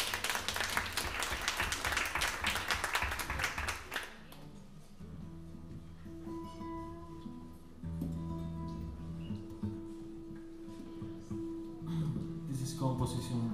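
Audience applause for a female singer at a live concert rises in a dense burst for about four seconds, then gives way to quieter music and room sound.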